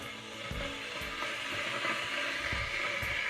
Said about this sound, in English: my trusted old kettle is making a lot of noise